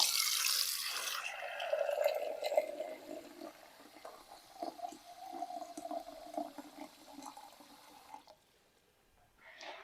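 Cold water is poured onto cashews in a container for a blender, making a steady splashing, gurgling pour that lasts several seconds before tapering off.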